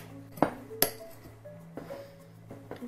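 A spoon clinks against a bowl while a turmeric and lemon juice face mask is stirred, giving a few sharp close taps followed by softer scraping knocks, quiet and without voices.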